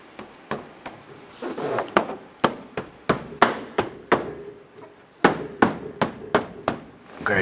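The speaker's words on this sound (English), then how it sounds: "Press the bumper into the notches in your bracket." Nissan Versa (2007-2012) plastic front bumper cover pressed into the notches of its mounting bracket, heard as a series of sharp, close clicks and knocks in an irregular rhythm, with no talking.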